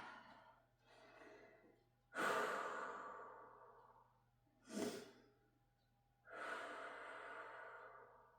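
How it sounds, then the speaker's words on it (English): A person doing yoga exhales breath in several soft, close sighing rushes, each swelling and fading, with quiet pauses between and no talk. "Breathe it out."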